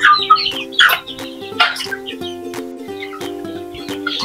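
A silver gray native chicken rooster clucks in short, repeated bursts close by, and other birds chirp faintly against a steady background hum.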